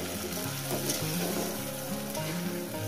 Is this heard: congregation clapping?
no